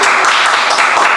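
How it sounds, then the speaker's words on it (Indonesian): Audience applause at a talk on social action, a dense, steady wash of many hands clapping together, loud and close for about a second with no voices over it. "tepuk tangan dulu dong guys"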